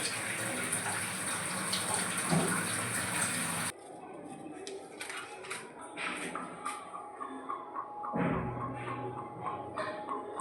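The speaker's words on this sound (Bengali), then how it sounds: "জল ফুটে গেছে" Water boiling in a biryani cooking pot: a loud, broad rushing hiss that abruptly drops to quieter bubbling and gurgling with scattered clinks and a low swell later on.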